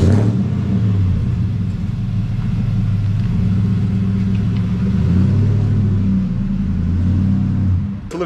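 A Nissan Y62 Patrol rolling out of a home garage, its engine giving a steady low rumble with a slight rise in revs, close and loud, no talking.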